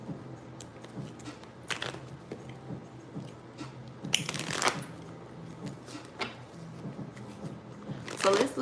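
Tarot cards are shuffled up close in short, crisp bursts with brief pauses between, over a quiet background hum.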